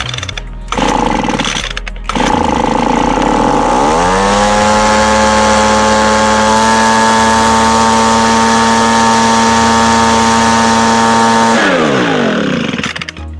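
A Homelite 26B chainsaw engine catches and runs loud and close, rough at first and then revving up to a steady high whine that holds for several seconds before dropping back.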